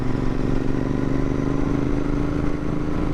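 Royal Enfield Interceptor 650 motorcycle exhaust rumbling steadily up close, a continuous low, loud engine drone with a constant throttle and no talking.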